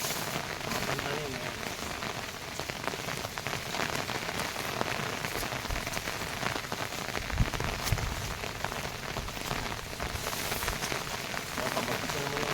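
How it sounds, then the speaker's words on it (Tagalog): Heavy rain pours down steadily and loudly, a dense, unbroken hiss of drops that lasts throughout. "Pabagsak na naman yung ulan."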